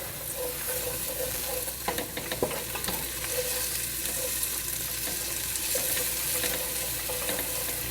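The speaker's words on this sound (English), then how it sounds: "Now I'm going to add my garlic, and I'm going to let that saute for just about a minute until it's nice and fragrant" Garlic sautéing in a pan while being stirred often, a continuous close sizzle with scattered scrapes and clinks, no talking.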